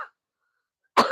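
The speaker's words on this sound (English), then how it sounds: "I do apologize for coughing so much" A single sharp cough from a man with a cold and a sinus infection comes close and loud after a moment of silence, preceded by a faint trailing sound.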